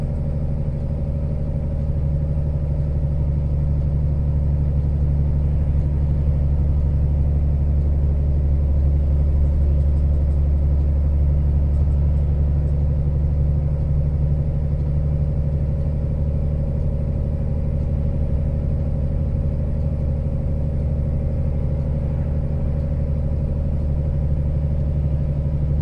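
Heavy truck engine labouring up a long, steep highway climb, a steady loud low droning rumble with no breaks, close and continuous throughout.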